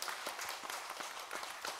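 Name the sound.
congregation applause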